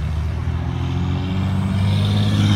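Steady road traffic rumbles loudly and continuously outdoors, a low droning of passing vehicles that swells slightly toward the end, with no talking.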